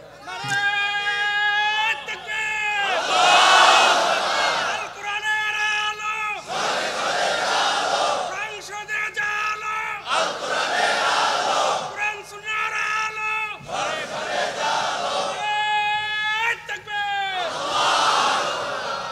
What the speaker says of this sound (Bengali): তো দেন, একজন দেন, তাকবীর দেন, দেখি একজন দেন।